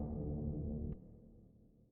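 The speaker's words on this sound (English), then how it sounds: "I just picked a pluck instrument and the buzzy picking" A pluck-instrument synth patch with buzzy picking, built in Logic Pro X, sounds as a dense sustained buzzy tone that cuts off about halfway and leaves a fading decay tail.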